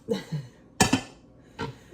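A plate set down onto a blender jar as a stand-in lid in a home kitchen: a few clattering ceramic clinks, one sharper double knock in the middle and a softer one near the end, close and moderately loud.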